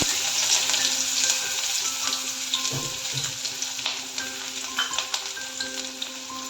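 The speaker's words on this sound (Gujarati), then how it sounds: "તો આપણું તેલ અહીંયા ગરમ થઈ ગયું છે તો આમાં હું એડ કરીશ એક મોટી ડુંગળી કટ કરીને" A large chopped onion goes into hot oil in a pan and sizzles loudly and steadily, with crackling and occasional stirring, close and uninterrupted.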